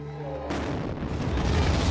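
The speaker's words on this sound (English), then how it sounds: "explosions near the finish line just a short while ago" Bomb explosion near the Boston Marathon finish line, a sudden loud boom that cuts in after a quiet tone and rolls into a sustained rumbling roar.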